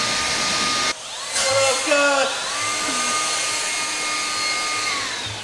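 A steady, loud air blower dries off a brand-new 2021 Mercedes-AMG E53 Coupe, a constant rushing whoosh that shifts slightly in pitch partway through, with faint tonal whines riding on top.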